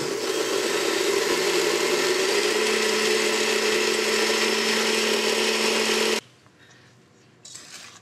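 An electric mixer beats chocolate bundt cake batter after an egg is added, a loud, steady whirring drone that runs for about six seconds before cutting off sharply, leaving near silence.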